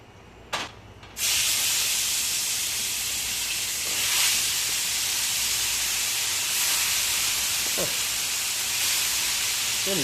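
Fish deep-fried crisp at an island roadside dhaba: after a brief knock, a loud, steady hissing sizzle of hot oil fills the scene and carries on evenly, with faint clatter in the background.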